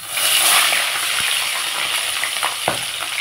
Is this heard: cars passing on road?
no